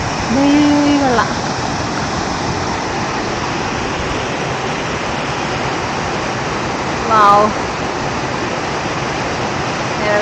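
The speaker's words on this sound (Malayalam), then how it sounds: "വെള്ളച്ചാട്ടം" Jogini waterfall near Vashisht, Manali, roars as a loud, steady rush of falling water. A voice briefly exclaims over it near the start and again partway through.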